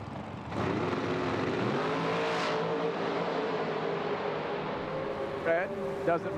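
A drag racing car at the PDRA East Coast Nationals roars hard down the track in qualifying, a loud sustained engine blast that climbs in pitch, with a voice talking over it near the end.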